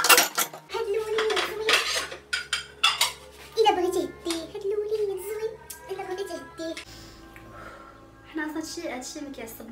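Dishes, cutlery and pots being washed by hand in a home kitchen, giving repeated clinks, clatters and scrapes of metal and crockery, fairly close, over a steady low tonal hum in the background.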